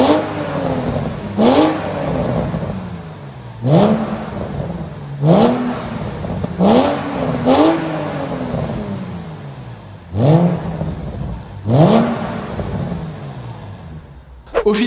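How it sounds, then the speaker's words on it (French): Porsche Boxster 986 flat-six with a valved stainless steel exhaust revs repeatedly, each sharp blip rising and falling back to idle in a loud, close series of about eight revs with no talk. "il ne vous reste plus qu'à profiter de la nouvelle sonorité de votre voiture"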